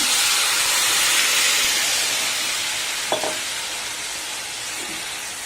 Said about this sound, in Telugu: ఈ మినప్పప్పు యోరగా వేగే వరకు వేయించండి ఇందులో నేను ఈ పచ్చడి వేసేస్తున్నాను